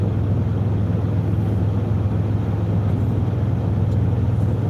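A car drives steadily with a constant low engine hum and road rumble close by, continuous and unchanging throughout, with no talk.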